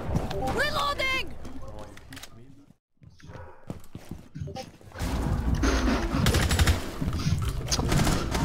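Gunfire bursts in Rainbow Six Siege, with a sharp volley at the start, a brief near-silent gap, then dense, loud, continuous shooting and impacts, with people talking throughout.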